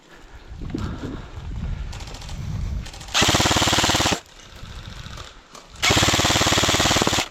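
Two long bursts of rapid automatic airsoft fire, loud and close, separated by a pause with rumbling movement and faint background noise, during an airsoft game in Vinnytsia, Ukraine.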